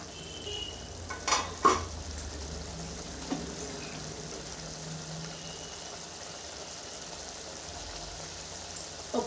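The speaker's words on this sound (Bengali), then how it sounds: "আবার 1 মিনিট ফুটিয়ে নিব, আঁচটা লো করে দিব।" Mustard fish curry bubbles on low heat, a steady soft sizzle and hiss with a few louder pops and clinks near the start and end, close and fairly quiet with no speech.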